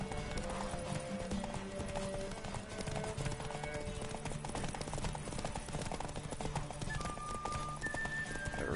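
Steady clip-clop of galloping hooves with an occasional horse whinny during a horse race in The Witcher 3, layered over continuous game music and effects.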